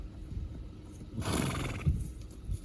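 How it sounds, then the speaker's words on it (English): A horse whinnies in a brief burst, with soft rustling and low movement noise around it and no voices. "Oh, look at this beautiful horse."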